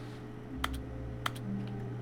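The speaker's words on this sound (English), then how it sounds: "Why is it making key typing noises when I click?" Two soft keyboard-typing clicks triggered by mouse clicks in The Stanley Parable video game, sounding close over a steady low game hum with no talking.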